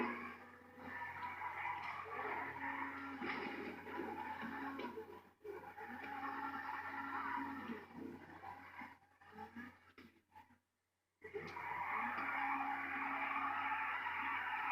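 A car in Grand Theft Auto races along at speed, engine roaring loudly in sustained bursts that drop out briefly before surging back, with no talk over it.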